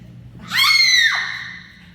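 A woman lets out a single loud, high-pitched scream that rises sharply, holds for about half a second, then breaks off abruptly, with no talking.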